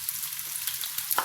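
Sliced onions, three heads' worth, sizzling in hot oil in a pan, a steady close crackle and hiss with a brief louder burst near the end, no voices.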